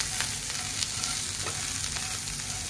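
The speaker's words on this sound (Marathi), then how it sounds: "मीठ चवीप्रमाणे घाला आणि पुन्हा परतवून घेऊ आपण" Green chillies, peanuts and salt sauté in a pan for mirchi thecha, an even close sizzle with soft stirring scrapes, brief and steady with no voices.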